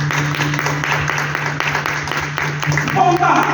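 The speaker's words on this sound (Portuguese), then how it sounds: "Pode aplaudir o Senhor." A church congregation applauds steadily at a service, broad clapping filling the room with a low sustained hum beneath it, swelling slightly louder toward the end.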